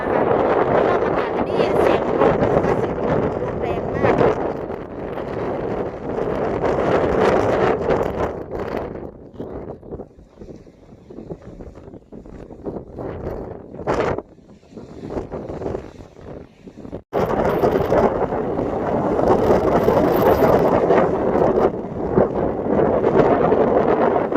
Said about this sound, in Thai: ติดทะเลด้วยลมแรงด้วยนะคะทุกคน